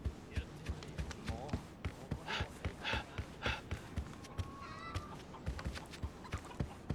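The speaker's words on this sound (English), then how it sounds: "I hear the chickens are calling." Chickens cluck faintly in the video game Like a Dragon: Ishin!, with short clucks amid rhythmic footstep-like thuds and game ambience, and brief talking in between.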